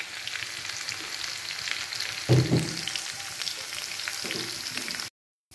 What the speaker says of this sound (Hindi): हुण असी इहदे विच गोल लाल मिर्च, जीरा और कटी हुई सबज मिर्च पा देंगे